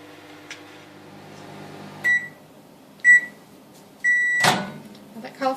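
A microwave oven cooking cauliflower beeps three times in a quiet kitchen, followed by a short clatter of the door, with a soft hum at the start.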